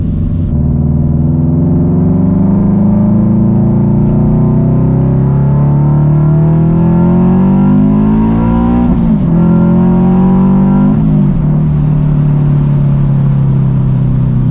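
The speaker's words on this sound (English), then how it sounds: "That's literally why I bought this supercharger, just for that blow-off valve noise." A supercharged Scion FR-S engine revs hard and climbs steadily in pitch, with two brief sharp breaks of blow-off valve release as gears shift, loud and close throughout.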